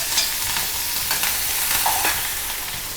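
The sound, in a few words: tempering mustard seeds, urad dal, green chili, curry leaves in oil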